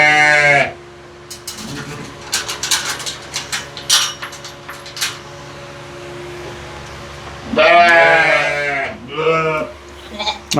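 Sheep bleating loudly up close during hoof trimming, several long wavering calls separated by quieter stretches of shuffling, clattering and a steady background hum.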